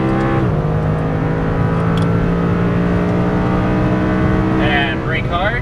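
An Audi R8 accelerates hard on a race track. The engine note climbs steadily and loud up close, drops with an upshift, and climbs again.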